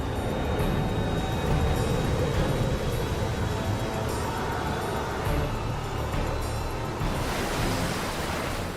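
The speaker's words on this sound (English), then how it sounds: "Wild water rages down the mountainsides and roars into the valleys." Floodwater rages down mountainsides into valleys as a continuous, dense roar of rushing water, loud and unbroken throughout, with a brighter hiss swelling near the end.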